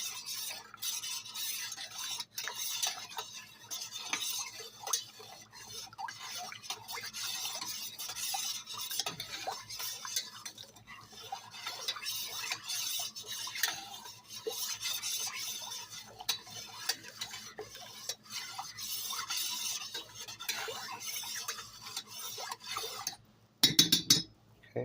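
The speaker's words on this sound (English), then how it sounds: "Sometimes I'll even take this and just put it right into the fermenting jar and just kind of stir it around real good." Sugar being stirred into kombucha in a fermenting jar: steady scraping and clinking of a utensil against the jar, continuing for a long stretch before a sudden louder clatter near the end.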